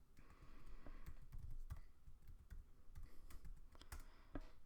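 Someone types on a computer keyboard at a quick, uneven pace, with soft close key taps and a few louder strokes over a faint background hum.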